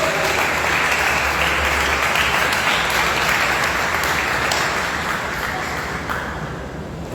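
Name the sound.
congregation applauding for Jesus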